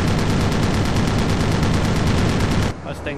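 Rapid, sustained bursts of aircraft machine-gun fire from a WWII-style dogfight involving a Bf 109 and a Mustang, loud and dense for nearly three seconds before cutting off abruptly into quieter engine noise.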